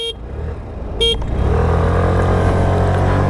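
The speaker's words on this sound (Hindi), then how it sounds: "will start the acceleration test with 3 horns," Two short, bright beeps from the horn of a 2026 Suzuki Burgman Street 125cc scooter, then the engine revs up and holds a loud, steady drone.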